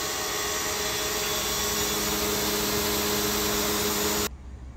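A pressure washer drives a sewer jetter nozzle to unclog a kitchen sink, a loud, steady hissing roar that runs unbroken and then cuts off abruptly just before the end.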